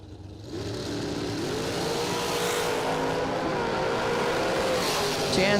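Class C door cars at a drag racing event launch down the lanes with loud engines rising and revving through gear changes, close and continuous.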